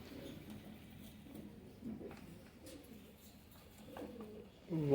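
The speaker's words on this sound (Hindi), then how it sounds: "ये भी दोस्तों सियालकोटी कबूतर है।" A Sialkoti pigeon held in a loft coos faintly in low, soft murmurs, with light rustling nearby and a brief louder sound at the end.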